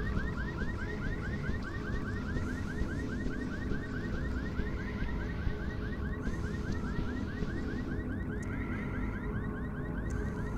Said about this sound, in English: I thought I jumped on that pickup before and the car alarm didn't go off!